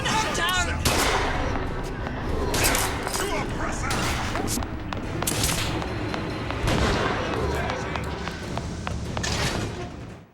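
Gunfire in Bioshock Infinite: Burial at Sea, rattling in dense repeated bursts with heavy thuds and booms over about ten seconds, loud and continuous, with voices faintly mixed in.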